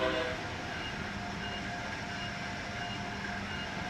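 An Amtrak Acela train runs along the Northeast Corridor between Boston and Providence in Train Sim World 3, a loud, steady rumble of wheels and motors carrying on evenly with no talking.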